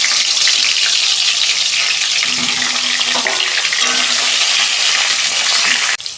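Pointed gourd (potol) pieces frying in hot oil, a loud, continuous hissing sizzle heard up close, with a faint scrape near the end.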